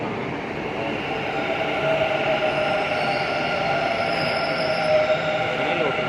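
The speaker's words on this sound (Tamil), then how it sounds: "இப்போ தான் பார்க்குறேன் பெங்களூரில் ஃபஸ்ட் டைம் மெட்ரோவில் போகிறேன்." Steady rumble and hum of a Bengaluru metro train with air-conditioned coaches running, continuous and fairly loud throughout, with faint tonal whines riding over the noise.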